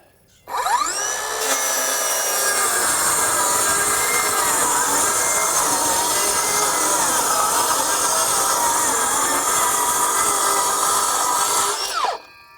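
A Greenworks 24-volt brushless 7-1/4-inch circular saw cutting half-inch strips with a shallow blade setting. It spins up abruptly into a loud, sustained whining cut lasting about eleven seconds, then stops sharply, with no talk.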